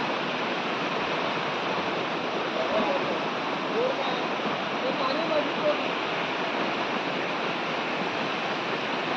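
Fast-flowing river water during a village Rishi Panchami bathing outing, a steady, broad rushing roar that stays constant throughout, with faint voices barely showing beneath it.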